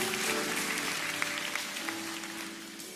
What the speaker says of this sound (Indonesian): Tepuk tangan buat Tuhan kita sekali lagi